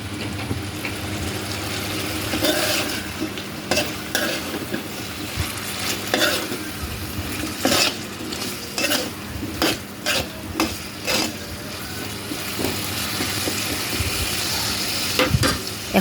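Hog plums (amra) are stir-fried with spices in a pan, giving a continuous close sizzle punctuated by repeated sharp scrapes and clacks of a spatula against the metal.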